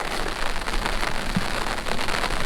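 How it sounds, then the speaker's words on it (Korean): Steady rain falls on Jeju Island, a dense, even patter of drops hitting surfaces, close and fairly loud, with no other sounds. "근데 이렇게 비가 오고 있어요"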